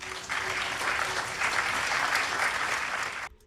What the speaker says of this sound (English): There's all the applause